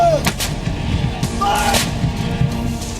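An M777 ultra-lightweight howitzer fires a couple of deep booming shots amid outdoor rumble and distant noise, with brief faint voices in the background.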